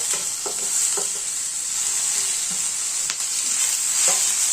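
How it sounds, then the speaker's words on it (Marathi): Chillies and tomatoes are stir-fried in a pan, giving a steady close sizzle with a few soft scraping stirs of a spoon. "ते सगळं परतन झाल्यावर आपल्याला टाकून घ्यायचं आहे टोमॅटो।"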